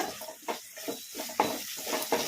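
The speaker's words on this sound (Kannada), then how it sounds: "ಅಲ್ಲ ಬೆಳ್ಳುಳ್ಳಿ ಪೇಸ್ಟು ಹಸಿ ವಾಸನೆ ಹೋಗೋವರೆಗೂ ಫ್ರೈ ಮಾಡ್ಕೊಂಬಿಡೋಣ" Ginger garlic paste stir-fried in a pan over medium flame for a drumstick masala curry, with a soft sizzle and repeated scraping strokes of a spoon against the pan, close and steady.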